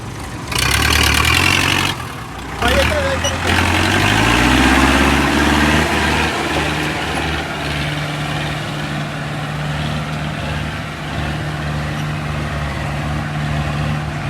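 A tractor engine runs near at a low, rumbling idle on a bad sandy road near Dera Baba Nanak, loud at first with a brief dip, then settling into a steady drone.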